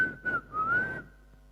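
A single person whistles a short, clear tone that dips and then rises, close by and fairly quiet, lasting about a second with no talking.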